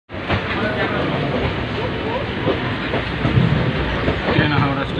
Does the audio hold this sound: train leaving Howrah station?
yes